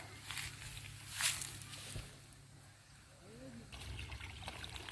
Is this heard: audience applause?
no